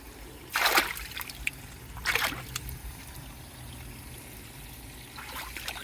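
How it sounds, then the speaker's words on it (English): Water pours into a garden pond during a refill, two distinct gushing splashes followed by a quieter steady trickle. "So I'm refilling the water now."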